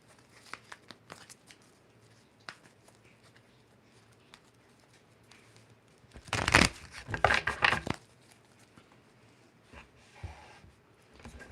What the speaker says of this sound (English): And let's do one more shuffle here.